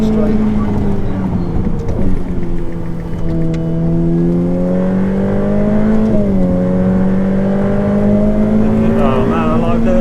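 A Ferrari F8 Tributo driven hard on a track, its engine note climbing steadily through the gears with brief dips at the shifts, loud and close from inside the car for about ten seconds.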